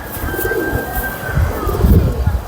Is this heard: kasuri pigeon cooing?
yes